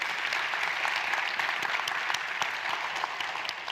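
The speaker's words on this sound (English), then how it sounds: "we can give Danielle a round of applause" A crowd at the 3rd Annual HCPS Celebration of Excellence applauds Danielle Bedsole, Director of Transportation, with steady, dense clapping that stays loud and even throughout the short stretch.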